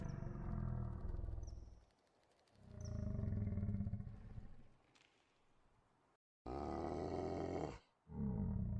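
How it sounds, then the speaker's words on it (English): A generic monster roar for a video game sounds in several heavy, loud bursts separated by short silences, with deep growling and a final harsher, brighter roar. "Roar generic."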